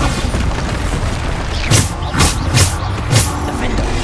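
The Bombarda spell in Hogwarts Legacy goes off as four quick, punchy explosive bursts in a row over a steady rumbling game background.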